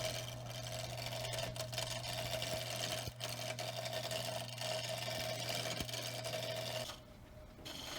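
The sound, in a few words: 1928 Craftsman lathe turning a pallet block blank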